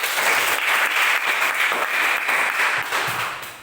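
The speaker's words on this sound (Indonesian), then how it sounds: "tepuk tangan" A classroom of pupils claps together during a lesson, a loud, steady burst of many hands that keeps a fairly even rhythm and tapers slightly near the end.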